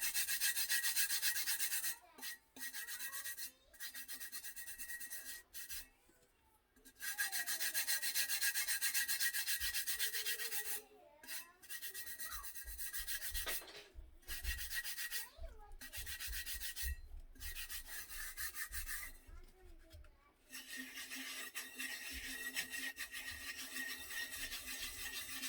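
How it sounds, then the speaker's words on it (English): Holographic glitter rubbed by hand onto a tumbler, giving close, steady dry rubbing and scraping strokes with a few brief pauses and no talk. "You rub it until it lays completely flat and the tumbler actually feels completely smooth."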